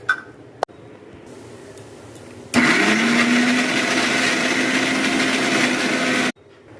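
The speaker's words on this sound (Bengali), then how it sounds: "এই যে মিক্সিতে নিয়ে নিয়েছি, আমি এটা এবার পেস্ট করে নেব" An electric mixer grinder whirs loudly as it makes garlic paste, starting abruptly after a few clicks and running steadily for about four seconds before cutting off.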